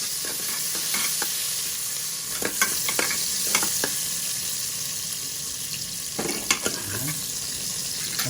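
White onion and garlic frying in a pan for chop suey with shrimp, a steady high sizzle throughout, broken by several sharp scraping stirs of a utensil; no one speaks.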